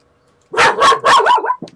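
A pet dog barks in a quick close burst of about four loud, sharp barks, followed by a short softer yip, after a moment of near silence.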